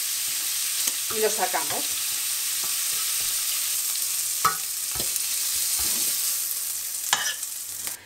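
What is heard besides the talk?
stuffed squid briefly frying in a pan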